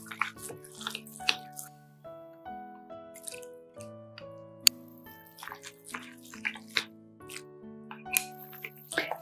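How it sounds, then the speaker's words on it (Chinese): Soft wet squishing and dripping as minced meat is stirred in one direction while scallion-ginger water is added, irregular close squelches under faint background music. "顺着一个方向搅动，然后分三次加入葱姜水"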